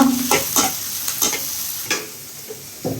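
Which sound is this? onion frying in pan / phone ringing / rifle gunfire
onion frying in pan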